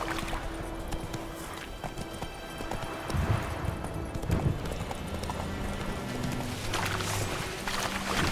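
Roach the horse trots in the video game The Witcher 3: Wild Hunt, a steady clip-clop of hooves running through the whole clip under game music and ambience, with faint speech.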